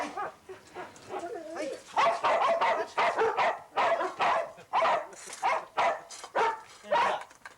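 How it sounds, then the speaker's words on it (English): Dogs at a rural kennel set among old caravans and sheds bark repeatedly in an irregular run of loud, close yaps and whimpers with almost no pause. "Only the occasional bark,"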